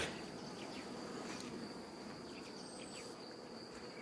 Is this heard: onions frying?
no